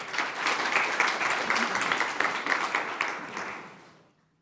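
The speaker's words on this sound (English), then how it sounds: "Please give him an applause." A room audience at a climate services general assembly gives a speaker dense, even applause that holds steady and then fades out to silence.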